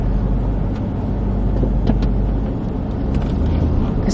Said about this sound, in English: I couldn't tell if that car was moving for a minute